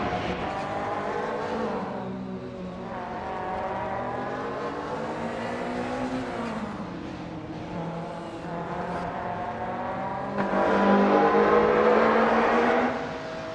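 Race car engines roar and rev continuously in a racing video game, several cars droning and shifting pitch as they accelerate and pass, growing louder near the end, with no talk.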